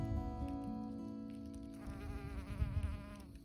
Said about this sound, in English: That's a honeybee though.